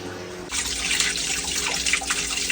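Sudden rush of running water begins after a short quiet moment as water backs up from a bathroom drain, then a steady splashing gush continues close by with gurgling swells.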